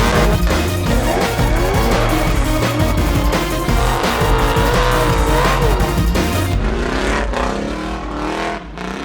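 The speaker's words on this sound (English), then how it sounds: "It is a Toyota Soarer with a V8" A Toyota Soarer drift car with a V8 engine roars loud and close, its engine revving and wavering while the tires squeal and skid continuously, easing off slightly toward the end.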